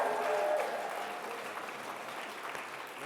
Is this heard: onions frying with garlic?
no